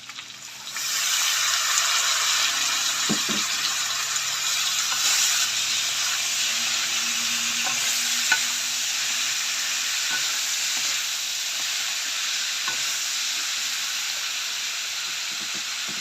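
Minced pork stir-fried in a pan with yard-long beans, onion and bell pepper, a steady loud close sizzle after an opening clatter, with occasional scrapes and knocks of the spatula, no talking.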